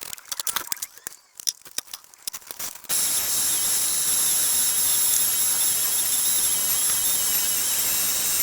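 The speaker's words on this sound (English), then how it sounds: "I just sprayed the first coat of primer on the inside of the front and rear bumpers here" A few seconds of light clattering give way to a loud, steady, unbroken hiss as a spray gun lays primer on the inside of Jeep front and rear bumpers.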